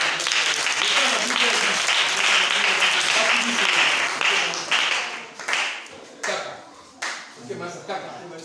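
A church congregation applauds at an Easter service, dense sustained clapping from a crowd that fades into scattered claps toward the end.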